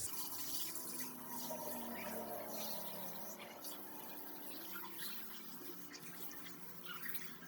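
Running water pours steadily over hair being soaked, a constant close wash of splashing and flowing liquid with no break throughout.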